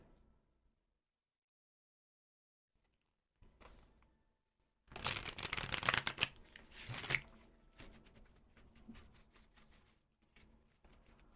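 Tarot cards are shuffled by hand in a quiet room: after near silence, a few seconds of brisk riffling and flapping, then softer card handling and sliding.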